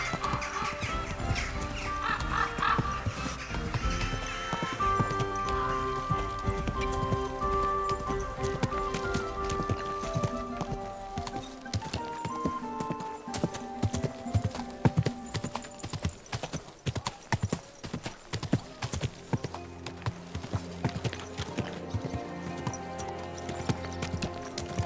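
Horse hooves clip-clop in the medieval open world of Kingdom Come: Deliverance II, a steady rhythmic trot that grows sharper and more distinct later, over layered game music and ambience with a faint whinny.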